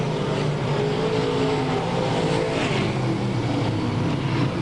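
Race cars lapping the track at Albany Saratoga speedway in 2001, a continuous engine roar holding steady with layered revving from multiple cars circulating.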